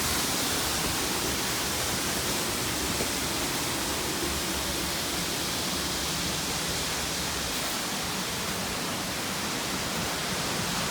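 Sengan Waterfall rushing steadily, a dense, unbroken roar of falling water heard up close and constant throughout, with no voices over it.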